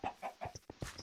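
Chickens called Grooks in the Wynncraft game clucking close by, a quick run of five or six short, choppy clucks in uneven rhythm, alone and fairly quiet.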